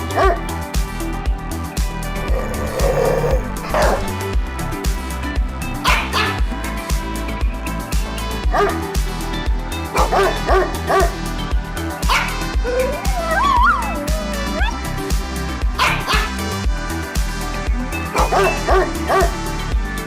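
A dog barks and whimpers with yips in a home, the calls recurring loudly over a busy, continuous mix of other sound for about twenty seconds.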